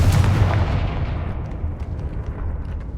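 A Confringo spell explosion in Hogwarts Legacy on PS5 bursts with a deep, loud boom at the start, then rumbles and decays over the next few seconds.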